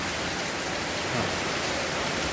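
Heavy tropical rain pouring down, a dense, even roar of falling water that fills the whole moment with no voices.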